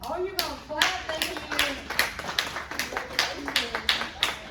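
An audience at a Kentucky Girls State gathering breaks into brisk, rhythmic clapping, close and fairly even in pace, with a voice faintly audible over it.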